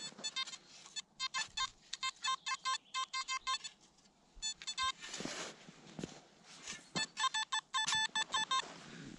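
Metal detector sweeping along a railway embankment, giving bursts of rapid electronic beeps in repeated clusters with short gaps, close and clear, with faint rustling between.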